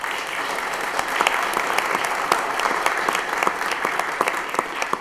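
Applause fills a city council public safety subcommittee meeting in Lowell: a steady wash of clapping hands from a room of people, moderately loud and sustained without voices.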